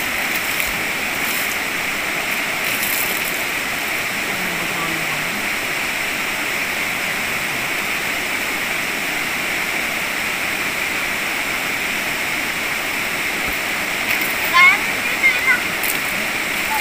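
A waterfall pours steadily at a falls site, a constant broad rushing wash that stays even from start to end, with faint voices now and then beneath it.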